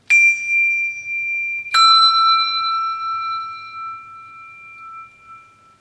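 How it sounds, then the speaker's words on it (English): Two handbells held in one hand ring one after another as the wrist turns, each giving a clear bright strike with a long sustained ring, close and loud, the second sounding a lower pitch. "by turning the wrist, we're able to hit only 1 bell at a time"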